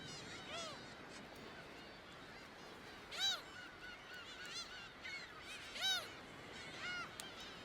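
Hundreds of summer migratory birds in the Korean DMZ give repeated goose-like honking calls over a steady outdoor wash, with two louder bursts standing out and fainter calls scattered through.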